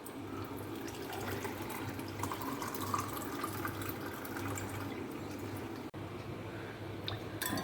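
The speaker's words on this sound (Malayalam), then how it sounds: "ഇത് നമ്മളെടുത്ത് ഒരു ഗ്ലാസ്സിലേക്ക് അരിപ്പ ഉപയോഗിച്ച് അരിച്ചെടുക്കണം" Amla and lemon juice strains through a sieve into a glass, giving a continuous soft trickle and drip with light squishing, close and steady, with one brief gap near the end.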